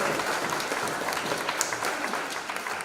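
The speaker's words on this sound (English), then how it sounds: "Please give Greg Aguilan a round of applause." A church congregation applauds during a Sunday service, a dense, steady wash of clapping from many hands that holds at an even level for the full few seconds, with no voices standing out.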